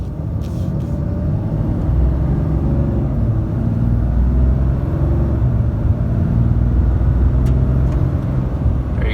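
A 2019 RAM 3500 dually pickup accelerates hard, giving a steady, loud low rumble of engine and road noise that holds for the whole stretch without a break, with no talking over it.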